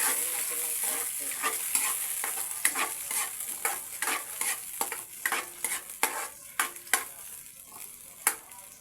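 Century tuna frying and being stirred in a pan, a constant sizzle broken by irregular scraping and clinking strokes of the utensil, close and alone.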